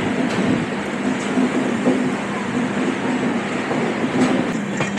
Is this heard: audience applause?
no